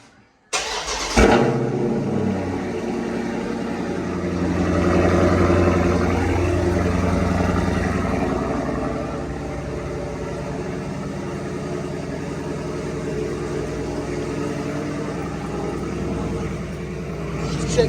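A 392 car engine cold-starts with a sharp crank and catch, then settles into a loud, rumbling high idle that rises slightly and holds steady for over fifteen seconds, recorded close.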